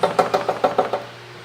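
A loose part at the front of a Chevrolet Onix Prisma knocking, seven quick, evenly spaced hollow knocks close by, then stopping and leaving a faint hum.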